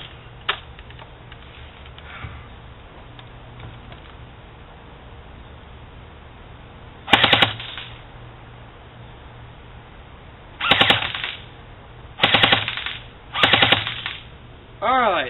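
AGM MP40 airsoft gun firing G&G .20 g BBs at a target 62 feet away: four short full-auto bursts of rapid mechanical clacking, each lasting about half a second, separated by quiet pauses, close and fairly loud.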